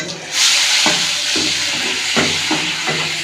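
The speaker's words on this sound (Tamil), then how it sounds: "இப்போ நல்லா வதக்கி விட்டுக்கிடலாம்" A garlic, fennel and pepper paste sizzles and hisses steadily in a hot pan for a fish curry, close and loud, with a few soft scrapes of stirring over the frying.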